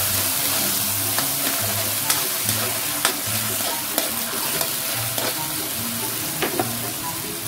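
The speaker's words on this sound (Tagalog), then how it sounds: "Ilagay na rin natin yung ating sardinas. Ihalo lang natin ng maigi guys." Canned sardines and egg are stirred in a hot frying pan, a continuous sizzle with scraping spoon strokes and soft clinks repeating at a steady rhythm, close up and without talk.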